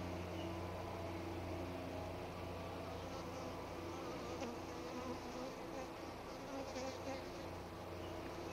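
Honey bees hum inside a hive that is preparing to swarm. A dense, continuous, even buzz of many insects stays steady and fairly soft throughout, with no talk.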